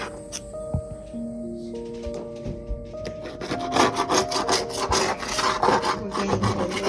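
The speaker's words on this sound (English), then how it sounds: "We're getting a little sanding down to clear out all the loose ends." Sanding down a kitchen backsplash produces a rough, rhythmic scraping and rubbing that grows louder and busier, with tonal squeaks and knocks mixed in and no talking.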